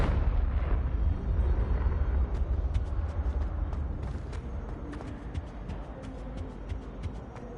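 A Confringo spell blast in Hogwarts Legacy erupts as a loud, rumbling explosion up front, its deep roar slowly decaying under scattered crackling and sharp pops.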